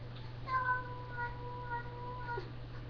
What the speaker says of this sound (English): that's just my cat being a bit weird